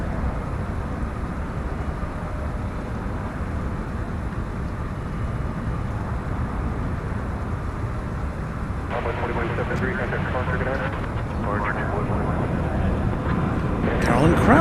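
A FedEx Boeing 767 at DFW Airport at night, a continuous loud jet engine roar that builds slightly toward the end, with a faint voice and other noises over the rumble.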